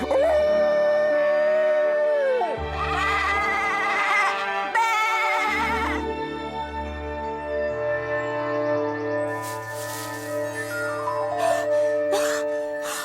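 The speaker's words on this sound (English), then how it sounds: "I feel a howl coming on." A cartoon weasel character in an animated animal series howls in long, wavering, rising and falling tones over a music score, carrying on for several seconds.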